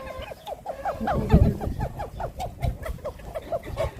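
Chickens cluck in a steady run of short, repeated calls, fairly close, with a brief low rumble partway through.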